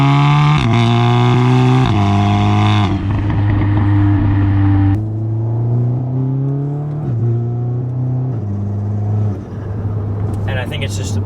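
A tuned 400 HP Audi S3 with a resonator delete and downpipe rumbles loudly up close, its deep exhaust note rising and falling through several rev blips before settling into a low, steady idle drone.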